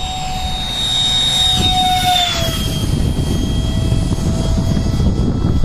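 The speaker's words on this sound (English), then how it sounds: "Here we come in for a flyby." A 64mm ducted-fan RC F-15 model jet flies past low, its loud, continuous whine sliding downward in pitch as it passes and recedes.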